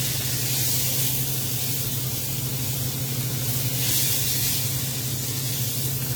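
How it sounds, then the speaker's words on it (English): Pork ribs sear in a pan on a stovetop, giving a steady, close sizzling hiss that runs unbroken throughout. "Turn that over, sear the sides now."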